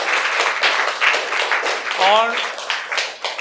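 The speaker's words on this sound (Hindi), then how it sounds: "तो एक बार सबके लिए अपने लिए जोरदार तालियां बजाइए।" An audience at a motivational talk claps loudly and continuously, with a speaker's voice briefly heard over the applause.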